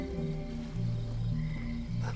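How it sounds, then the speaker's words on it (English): Frogs in the video game Abzu croak in low, steady repeated calls, fairly close and clear, with a faint ambient bed underneath and no talking. "These are the frogs."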